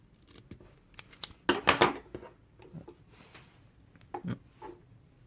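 Scissors snip through coil wire leads at an angle during a single-coil RBA build for a TVF4 tank, giving several crisp close cuts, one longer crunchy snip near the middle and two more short clips toward the end.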